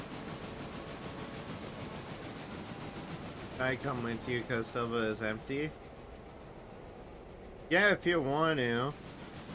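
A heavy freight train labors uphill in the video game Railroader, its low, continuous rumble and mechanical noise running steadily in the background while two people talk briefly over it.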